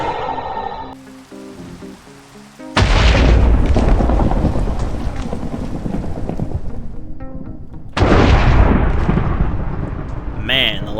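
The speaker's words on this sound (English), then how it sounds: "Man, the lightning likes that lightning rod." Two loud thunder crashes rumble in a video game as lightning strikes a lightning rod, each a heavy sustained roar after quieter game tones, with voices talking around them.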